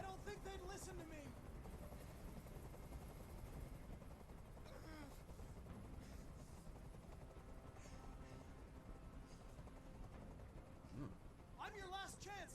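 A hovering helicopter in the video game Detroit: Become Human gives a steady, loud rotor drone throughout, with voices talking over it and occasional sharp bursts.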